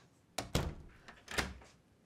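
A door in a waterfront mansion is unlatched and pulled open, a few dull close thunks and rattles with no one talking.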